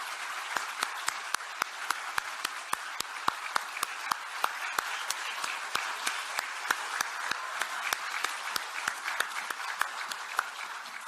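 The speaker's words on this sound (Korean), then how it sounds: "여러분 큰 박수 부탁드립니다." Applause from an assembly of newly elected party members greeting their party leader, a steady dense wash of many hands clapping with sharp individual claps standing out throughout, sustained and fairly distant, with no talking.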